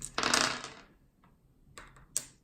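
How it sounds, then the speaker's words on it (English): Four dice rolled into a dice tray during a tabletop board game, a loud rattling clatter at first, then a pause and a few sharper clicks as the dice settle, close by with no talk. "Dice go into the dice tray."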